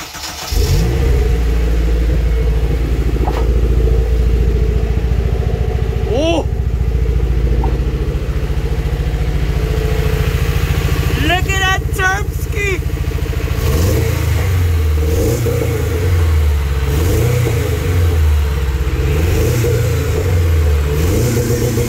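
A car engine idles loudly and steadily up close, then revs in repeated rising-and-falling surges during the second half.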